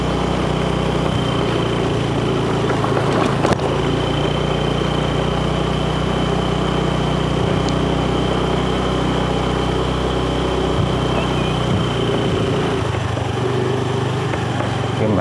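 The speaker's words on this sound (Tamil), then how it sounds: "இந்த வழியில் மேலே வண்டி போகுது." A motor vehicle climbs the road above a forest settlement, a steady engine hum running through the whole stretch at moderate distance, with no talk over it.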